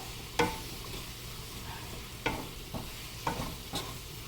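Onion with spices, chillies and coriander stems cooks in a pan for zhunka, a soft steady sizzle broken by several sharp scrapes of a spoon stirring, fairly faint with no voices.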